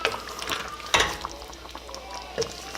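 A spoon stirs fish and vegetables cooking in sauce, giving soft scraping and gentle sizzling with a few clinks against the pot, fairly quiet and close.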